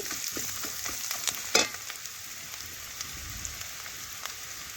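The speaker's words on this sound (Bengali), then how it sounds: "লাল লাল ভাজা হয়ে এসছে আবারও কিছুক্ষণ আমি নাড়াচাড়া করে নিচ্ছি" Steady crackling sizzle of goat tripe frying in a pan, with occasional scraping clinks of a utensil stirring.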